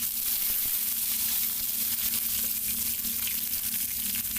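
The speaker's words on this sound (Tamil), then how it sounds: "இதில் கடுகு உளுத்த பருப்பு போட்டு நல்லா தாளிசை பண்ணிக்கலாம்." Mustard seeds and urad dal frying in sesame oil for tempering, a steady, dense close sizzle that holds level throughout with no talking.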